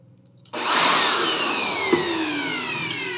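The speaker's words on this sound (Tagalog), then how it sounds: "Ito si blower." Handheld air blower switched on abruptly to clean a universal coin slot, a loud close steady whoosh and whine that holds evenly after starting, with no speech over it.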